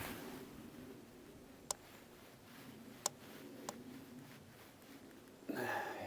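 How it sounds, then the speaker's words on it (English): A bowstring rubbing on the sides of the sear of a short Manchu-style fiberglass bow gives a few faint, sharp ticks over quiet room noise, then a louder rustle at the end. "There's just the string rubbing here on the sides of the sear, so that makes this noise."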